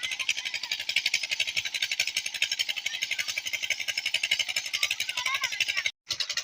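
A village tube well pump engine runs steadily with a fast, even mechanical chugging that stays loud and continuous throughout, with a brief dropout near the end.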